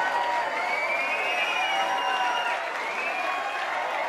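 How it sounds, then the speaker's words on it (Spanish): A boxing arena crowd applauds ringside legends before a middleweight bout, producing a steady wash of clapping and crowd noise throughout, with faint whistles or voices rising above it. "Aplausos, aplausos."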